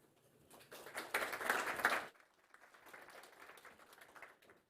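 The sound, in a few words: applause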